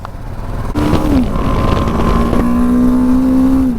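A BMW motorcycle engine drones steadily at close range on a ride from Sarchu to Chandigarh, its pitch holding and slowly rising as the bike rides on, with a sharp click near the start.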